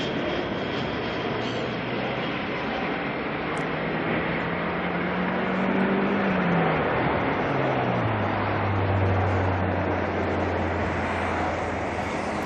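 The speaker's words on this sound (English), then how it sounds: "Here's the next 320 coming on in" An Airbus A320 airliner arriving at Auckland airport from Wellington gives a loud, continuous jet roar with broadband rush and a slowly shifting low engine whine, sustained throughout without talk.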